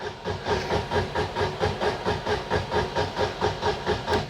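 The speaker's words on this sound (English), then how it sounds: "as it pumps fuel up" Fuel pump running as it pumps fuel up, a steady rapid rhythmic pulsing hiss with about four beats per second, close and continuous throughout.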